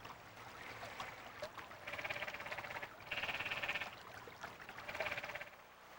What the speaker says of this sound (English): It's the croak of the canyon tree frog, probably the most commonly heard amphibian in the park